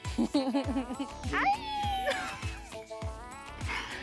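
A person imitates a cat's meow in a high, wavering voice, a few drawn-out mews over soft background bumps and chatter.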